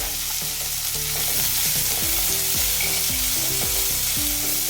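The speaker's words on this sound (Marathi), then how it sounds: "अद्रक आणि लसूण टाकून देऊया हिरव्या मिरच्या टाकून देऊया काजू टाकून देऊया" Ginger, garlic, green chillies and cashews sauté in a hot pan, giving a steady loud sizzle with repeated stirring scrapes and clinks throughout, with no talking.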